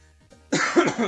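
A single person coughs in a burst of harsh, close coughs lasting about half a second, with a short faint throat sound just before it.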